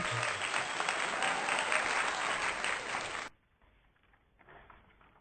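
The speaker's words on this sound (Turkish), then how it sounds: "Alkışlıyoruz hepimiz" Steady, loud clapping from a small group praising a child's watermelon drawing, lasting about three seconds before stopping abruptly and leaving faint room noise.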